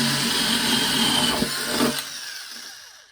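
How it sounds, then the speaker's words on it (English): A power drill with a spade bit whines steadily while gouging wood for a guitar neck, the bit grinding loud and close before the motor winds down and stops. "Got me one of these spade bits, and I'm just going to start gouging it out."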